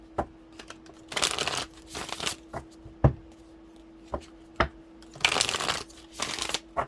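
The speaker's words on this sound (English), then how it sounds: "maybe I should do the shuffling separately and just lay the cards" Tarot cards being shuffled by hand in several quick, papery riffling bursts, separated by soft taps and pauses, close and fairly quiet, with no talking.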